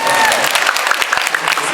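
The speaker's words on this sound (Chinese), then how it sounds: "给自己的精神掌声一下好不好" Concert audience applause at a spring banquet performance, a crowd clapping with separate claps audible up close and voices mixed in.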